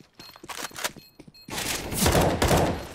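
Burst of gunfire in GTA 5, loud rapid shots with heavy thumps filling the second half after a quieter stretch of scattered clicks, with no talk over it.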